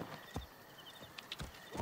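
Horse hooves clip-clop in the game Assassin's Creed Origins, a few faint, irregular thuds at a walking pace, with a soft whinny near the end.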